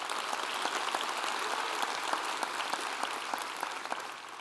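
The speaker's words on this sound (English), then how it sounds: "Let's give him a round of applause." An audience at a school district's State of the Schools event gives a round of applause. The dense, even clapping is fairly distant and fills the room steadily, with no talking over it.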